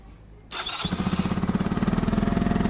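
A KSR Moto GRS 125cc motorcycle engine cranks and catches on choke after a quiet moment, then settles into a loud, rapid, chugging idle with a faint squeal at the start.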